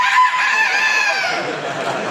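A comedian's voice imitates a rooster crowing, producing one loud, drawn-out, wavering crow-like call held for about two seconds, close and clear with nothing else beneath it.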